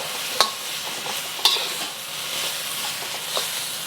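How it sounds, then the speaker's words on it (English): Green beans with soy sauce and sambal sizzle in a hot pan while a utensil stirs them, giving a constant close hiss with a couple of sharp clinks against the pan. "Just stir all of this up."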